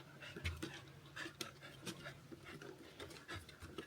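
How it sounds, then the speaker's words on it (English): Two dogs panting close by in a steady, rapid rhythm, with rustling and bustle around them during unloading of a car at the British Grand Prix. "There are two very cute dogs."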